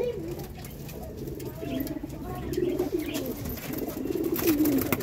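Pigeons in a loft give soft, low, repeated coos that build toward the end, mixed with light background noise.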